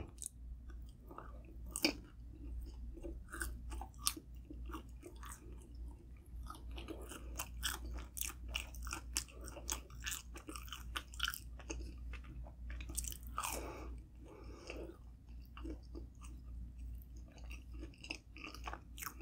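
Close, crunchy chewing of pepperoni pizza rolls repeats in an irregular rhythm, with crisp bites and wet mouth sounds over a low steady hum.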